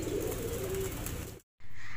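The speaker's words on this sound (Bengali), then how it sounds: "এখানে হচ্ছে কবুতর লালন পালন করা হয়।" Pigeons kept in a Bangladesh village home coo softly in a low, continuous murmur for over a second before a sudden brief cut, then the cooing resumes; no talking.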